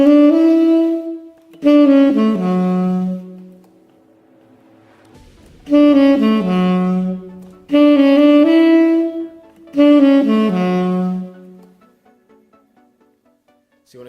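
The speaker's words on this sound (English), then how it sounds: "So on the tenor saxophone, that sounds like this." A tenor saxophone plays a short repeated rhythmic phrase from a tune, four bold bursts of notes separated by rests, loud and close with no talk.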